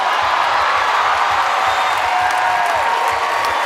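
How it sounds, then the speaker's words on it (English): Loud, sustained applause and cheering from a Tony Awards audience for Robert De Niro, dense rhythmic clapping and whoops filling the hall throughout. "The applause was deafening, and the standing ovation endless"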